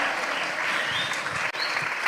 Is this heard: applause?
yes